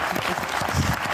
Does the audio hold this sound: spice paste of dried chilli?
no